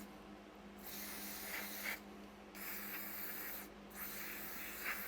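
Liquid swilling and sloshing inside the fuel bowl of a Mountfield 414 lawnmower to rinse out rust and dirt, in three close hissing bursts separated by brief pauses, with no voices.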